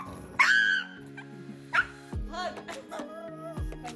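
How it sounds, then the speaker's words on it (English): A terrified pug whimpers and yips while its nails are trimmed, giving a few short, high, strained cries close by with brief pauses between them. "This pug has found its phobia. It is terrified of getting its nails trimmed."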